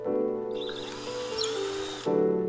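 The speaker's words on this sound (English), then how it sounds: "drilling through the top here for the holes" A power drill whines at high pitch for about a second and a half while drilling holes through a guitar top, then cuts out, leaving a low background hum.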